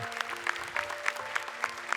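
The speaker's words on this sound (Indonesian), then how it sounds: "Boleh tepuk tangan lebih meriah untuk mereka berdua." Applause from a studio audience at a Quran memorisation talent show, steady clapping with a few sharper claps standing out at a regular beat under a faint sustained tone, moderately quiet.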